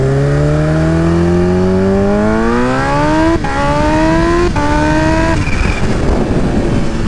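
A Kawasaki Ninja H2 motorcycle accelerating hard, its loud engine whine climbing steadily through quick gear shifts, close and alone with no talking.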